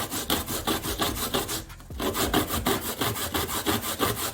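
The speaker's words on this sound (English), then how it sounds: "You just grate it like this." Fresh coconut is grated by hand in quick, rhythmic rasping strokes, each a scratchy scrape, continuing steadily with a short pause midway.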